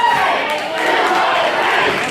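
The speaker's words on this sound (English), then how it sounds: "Crowd rallying behind Lukas Sharp." A wrestling crowd rallies and cheers behind a wrestler at an independent event, a dense wash of shouting voices and roars that swells and dips slightly, filling the hall continuously.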